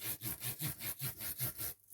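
Rhythmic rubbing strokes as white paint is worked up and down across a rustic corrugated tag, about eight soft back-and-forth scrapes close by before stopping.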